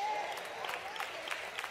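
Scattered applause from a church congregation during a sermon, faint and thin, with a few hand claps standing out over steady room noise.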